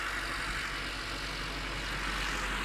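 A Honda CRX engine idles while warming up, a steady low rumble with broad mechanical noise. The car has a valve clatter, piston slap and rod knock. It runs continuously and close, with no talk.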